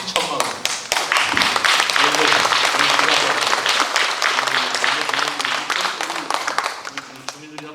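Residents at a Sejong city town-hall meeting in Hansol-dong break into sustained applause, a dense, loud crowd clapping with sharp individual claps, fading slightly toward the end.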